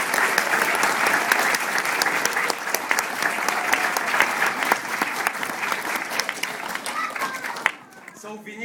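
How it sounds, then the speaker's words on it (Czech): An audience breaks into loud, dense applause that runs steadily for several seconds before cutting off abruptly near the end. "A zatleskejte"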